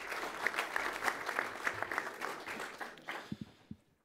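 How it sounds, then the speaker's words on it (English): An audience at a horse racing open forum session applauds in steady, dense clapping that gradually thins, with a few isolated claps ringing out at the end as it dies away. "you can give him a round of applause before"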